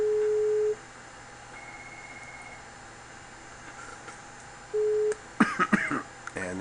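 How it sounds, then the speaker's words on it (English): A desk phone on a Cisco system rings in the background, two steady electronic tones separated by a long pause, followed by brief noises of handling. "Hear the background phone over there, since that's turned up"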